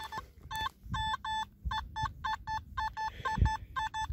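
A run of short, tonal electronic beeps in quick, uneven bursts, with low rustling and thumps beneath them.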